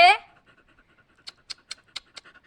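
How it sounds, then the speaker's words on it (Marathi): A short voice-like burst at the start, then a dog panting close by in quick, rhythmic breaths, about five or six in a row. "माझी कुत्री आणि माझे कुत्री खूप इमानदार आहेत"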